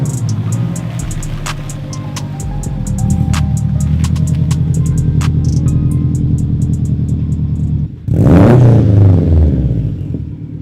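A Subaru WRX with an Invidia N1 race exhaust idles and burbles with a lumpy rumble and rattling clicks, then swells into a loud rev blip near the end, close by and without talk.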